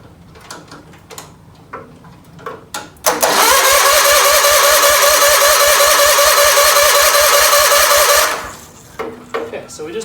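A John Deere 317 tractor engine cranking on its starter, a loud, close, rhythmic whirring churn lasting about five seconds without catching, with softer clanks and movement before and after.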